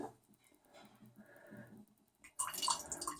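Wine running from the tap of a barrel: soft trickles and handling sounds at first, then a sudden brighter splashing gush of liquid pouring into a container, close and fairly loud.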